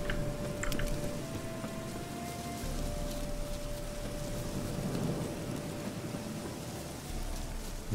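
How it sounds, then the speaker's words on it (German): Steady rainfall in the video game The Witcher 3: Wild Hunt – Hearts of Stone, a continuous hiss of drops on surfaces with a faint low rumble and a thin sustained tone in the game's ambience, no voices. "Ich kann jetzt den Regen sehen."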